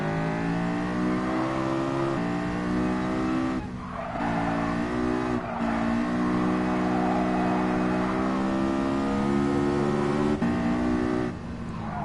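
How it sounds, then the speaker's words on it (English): Rotary-engined race cars in Gran Turismo scream past with a steady, high-pitched revving drone, engine notes stepping up and down through gear changes, with brief tire squeal, loud and continuous throughout. "Those rotary engines I hear are just like a completely different beast unto themselves."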